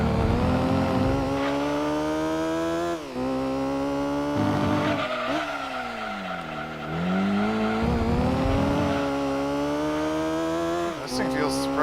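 A McLaren F1 GTR race car in Gran Turismo 2 drones steadily at high revs, its pitch rising and falling through gear changes with brief dips, while tire squeal and a voice talk over it throughout.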